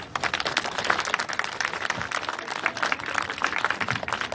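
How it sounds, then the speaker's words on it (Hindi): An audience applauds steadily after a speech, many hands clapping in a dense, continuous patter that holds at an even level throughout, with no voices standing out. "ताली बजाओ।"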